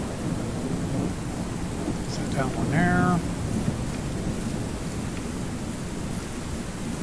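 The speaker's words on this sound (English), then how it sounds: "it really sounds like it's raining at my house. That's how realistic the sound is on this" Steady rain hiss with a low rumble of thunder in the Ranch Sim video game, constant throughout, while someone speaks briefly over it.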